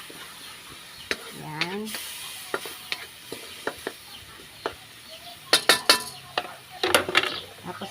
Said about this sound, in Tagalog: Gisagisahin na natin yung ating mga aromatics sa ating mainit na mantika.